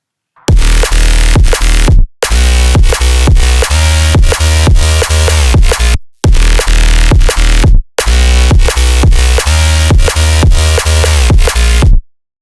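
A layered neurobass synthesized in Serum plays in loud, gritty phrases with deep low end and buzzing upper harmonics. Choppy rhythmic stabs run in four bursts separated by brief gaps.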